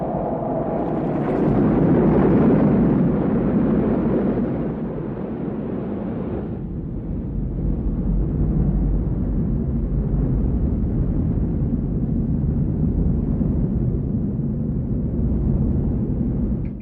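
Simulated sound of riding inside the tunnel of a breaking wave on a surfboard: a continuous loud, dense roaring rush that swells early, then settles into a steady low rumble for the whole stretch, with no voices.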